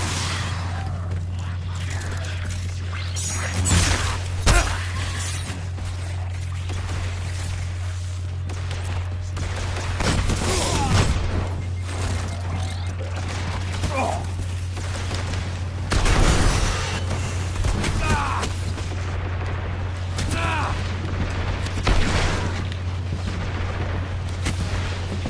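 Repeated heavy gunfire from a hand cannon in the video game Destiny, booming shots at irregular intervals over a steady low game hum, with some louder bursts among quieter ones.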